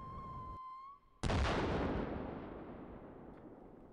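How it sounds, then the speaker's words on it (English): Arty Sim artillery simulator pyrotechnic fired by Canadian Forces, a high whistle that cuts off, then a sudden loud blast with a long decaying rumble. "The Arty Sim should not be used in confined spaces, as this significantly increases the effect of the explosion."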